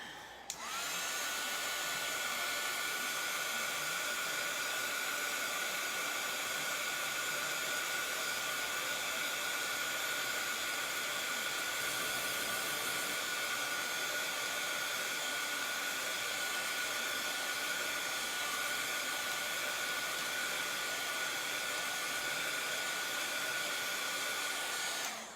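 A hair dryer blows steadily on chalk ink over a canvas bag, a loud, continuous whooshing hum with a high whine that starts abruptly and holds at an even level throughout with no talking.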